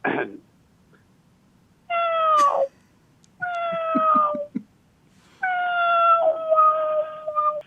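A human voice imitates a cat begging for food, giving three drawn-out, whiny meows separated by short pauses, loud and close, on a Korean radio show.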